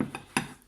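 A knife slicing a portion of onion tart (quiche), heard as two soft clinks against a dish followed by one sharper, louder cut-and-tap, close up with no talking.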